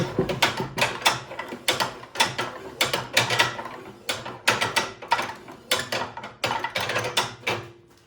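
The dry gears of a Troy-Bilt snowblower's gear-select mechanism are worked by hand, giving repeated bursts of sharp ratcheting clicks and clacks in an uneven rhythm, close and loud, with no voices.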